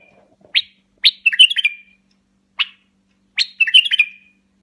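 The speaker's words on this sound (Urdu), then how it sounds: "بلبل کی سریلی آواز سن کر" A bulbul sings in bright, separate phrases: a few short chirps, then two rich warbled bursts of several quick notes each, clear and fairly close against silence.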